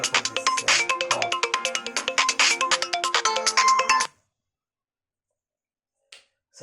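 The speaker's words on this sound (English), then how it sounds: "I had a phone call from somebody." A mobile phone ringtone from an incoming call plays loudly as a repeating chiming melody for about four seconds, then cuts off into silence, with a faint brief blip near the end.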